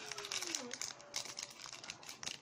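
Foil wrapper of a Pokemon Unified Minds booster pack crinkles and tears open close up, a continuous crackling rustle with brief louder rips and faint voices in the background.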